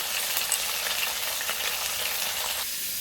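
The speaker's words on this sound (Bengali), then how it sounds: "দেখো কড়াটা আমি তাড়তে দিয়েছি, তেল দিয়ে দেবো, দিয়ে মাছগুলো ভেজে নেবো।" Fish head and tail frying in hot oil in a wok make a dense, steady sizzle that hisses evenly for three seconds and then softens slightly near the end, with no one speaking.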